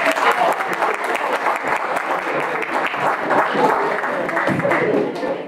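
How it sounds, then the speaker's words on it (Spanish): Loud, sustained applause from a large crowd, steady clapping throughout with faint voices mixed in. "Eso es ovación."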